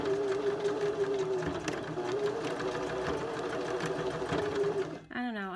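A sewing machine runs a straight stitch back and forth on a closure in a steady, close mechanical whir with a faint tonal hum. The motor stops near the end as a voice briefly comes in.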